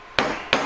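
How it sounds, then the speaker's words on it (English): Two crisp metallic hammer taps on a ring shank being shaped to a tapered point, close and evenly spaced, with no voices. "Just tapping shank up to a tapered point a little bit"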